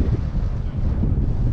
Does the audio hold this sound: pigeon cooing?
no